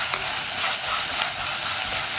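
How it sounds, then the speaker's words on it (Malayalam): Onion, ginger and curry leaves sizzle in a pan over a medium flame, a steady bright frying hiss with soft scraping strokes of a spoon stirring through, close and continuous. "ഇതൊന്ന് നന്നായിട്ട് ഇളക്കി വഴറ്റിയെടുക്കുക."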